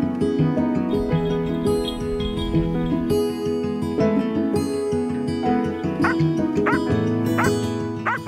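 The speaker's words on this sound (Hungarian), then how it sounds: "aktív jelzéssel, ugatással jelezte, hogy itt talált valamilyen elpusztult állati tetemet" A conservation detection dog trained to find animal carcasses and poison barks to signal a find. Its loud, close barks come repeatedly, mixed with higher yips and whines.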